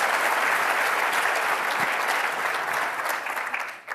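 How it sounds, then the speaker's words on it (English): An audience at a conference session claps in sustained, dense applause that holds strong for a few seconds before tapering off. "Let's give them a big round of applause."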